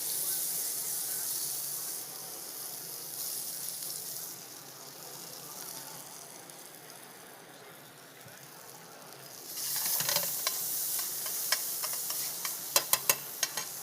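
Pre-cooked onions going into a pan of Campbell's soup give a steady, moderately quiet hiss and sizzle with stirring, easing off midway and then building again with a few sharp clicks of a utensil against the pan near the end.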